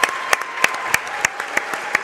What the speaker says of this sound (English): Please stand as we give you a round of applause.